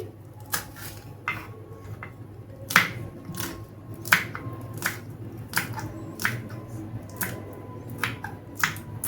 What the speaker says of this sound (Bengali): এরপরে দুটো গ্রিন চিলি নিয়ে নিলাম এটাও খুব পাতলা করে কেটে নিচ্ছি